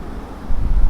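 Wind suddenly picking up outdoors, a brief low rumbling gust buffeting the microphone and growing louder toward the end.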